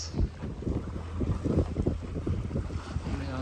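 Wind on a sailboat in misty weather near Kos at about nine knots, a continuous gusting rush buffeting the microphone with low thumps of water against the hull.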